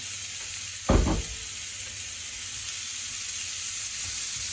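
Prawns drop into a hot oiled pan with a loud burst near one second, then settle into a steady broadband sizzle that runs evenly to the end, close and alone with no voices.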